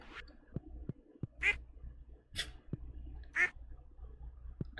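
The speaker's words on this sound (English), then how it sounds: "Oh, my duck! I wanna see my duck." A duck in the farming video game Stardew Valley quacks three times at a steady, unhurried pace. Small clicky game effects and soft taps fill the gaps between calls.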